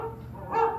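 A single short recorded dog bark from the Carousel of Progress ride show, brief and close.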